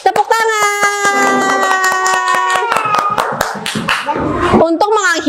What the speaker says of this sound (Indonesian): Oke, mari tepuk tangan bersama-sama.